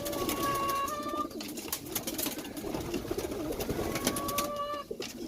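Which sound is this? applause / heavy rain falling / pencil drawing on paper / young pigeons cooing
young pigeons cooing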